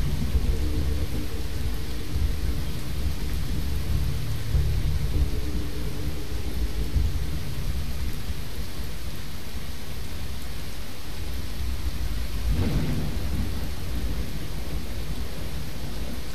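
Thunderstorm in the game Fallout 4 during a survival run at a drive-in, with heavy steady rain hissing throughout and a deep rumble of thunder rolling beneath, plus one brief crack near the end, with no talk.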